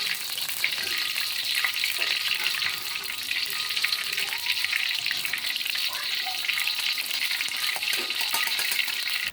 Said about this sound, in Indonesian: Digoreng sebentar terlebih dahulu.